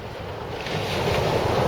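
Sea waves break on Gorleston beach in a steady, loud roar that swells slightly, mixed with strong wind buffeting the microphone, and no voices are heard.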